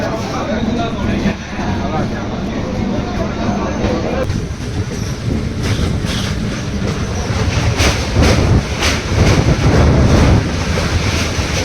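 A Sealdah–Katwa local train rumbles steadily along the rails toward Bandel with rhythmic clacking over the joints, loud and close throughout, with voices faintly audible beneath.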